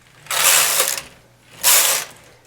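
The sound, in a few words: knitting machine carriage knitting rows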